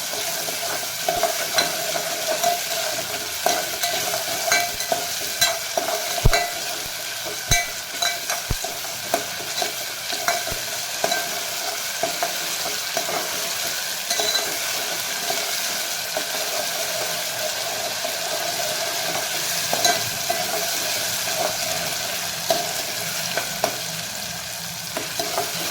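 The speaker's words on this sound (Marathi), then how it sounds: "कांदा टाकून घेत आहे" Onions fry and sizzle in a pan for chicken masala, with a steady close crackle and repeated stirring scrapes throughout, no voices.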